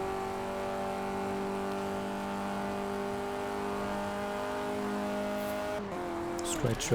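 A rally car's engine holds a loud, steady drone while racing uphill in Forza Horizon 4, then the pitch shifts abruptly near the end as the car changes gear or brakes.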